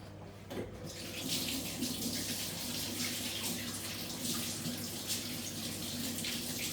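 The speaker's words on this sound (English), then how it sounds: "I need to wash my hands now." Kitchen tap running steadily for hand washing, a close, continuous rush of water with no talking over it.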